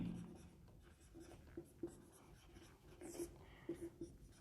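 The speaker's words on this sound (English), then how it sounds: "So first we will write" Handwriting notes during an engineering lecture on turbine transient stability: quiet, close pen scratching in short strokes with small taps, continuous and low.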